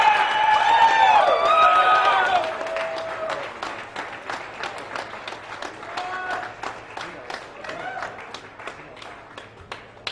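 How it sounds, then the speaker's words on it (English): An audience at a morning radio show breaks into applause, loud whoops and cheers at first, then settling into steady clapping that carries on to the end. "Give Big Mike a round of applause."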